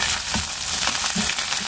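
Garlic ginger paste fries loudly in a pan, a dense, close hiss and crackle with soft stirring scrapes throughout and no voices.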